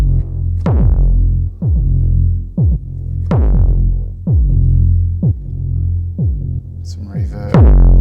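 A gritty, distorted synth tone plays a series of repeated notes, each sharply plucked then decaying, with a buzzy, saturated edge and a brief high squeal near the end.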